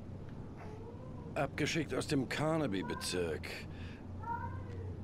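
A pet cat meows a few times close by, its short calls mixed in with a voice speaking German over a low steady hum.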